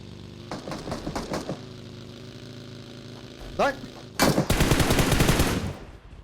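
Automatic gunfire in PUBG Mobile, with a short series of rapid shots, a brief pause, a single sharp crack, then a loud, sustained burst lasting nearly two seconds.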